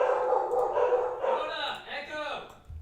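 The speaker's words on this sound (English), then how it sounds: "Don't mind the dogs." Several dogs barking and yipping in the background of a room, fairly faint and intermittent, with someone talking over them.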